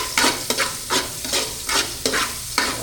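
Black pepper sautés with garlic in a pan, a loud close sizzle broken by about six regular scraping strokes of a spatula, roughly two per second.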